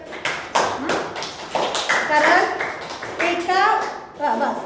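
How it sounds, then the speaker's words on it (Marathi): Children clap for a classmate in a classroom, a short burst of claps mixed in with a teacher's and children's voices. "जयसाठी टाळ्या वाजवायला."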